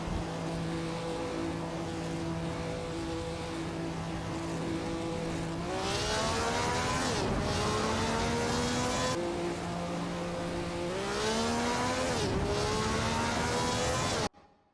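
Race cars in a racing video game scream past at high revs, with steady engine tones that climb and sweep through repeated gear shifts and passes, loud and continuous until an abrupt cutoff near the end.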